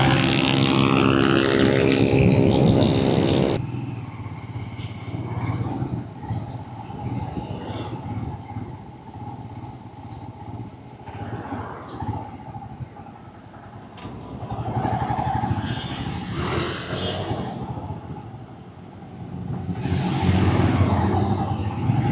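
A motorcycle rides along a road on a shortcut toward Pililla, Rizal, its engine droning and surging, with stronger revving at the start and again near the end and quieter cruising between.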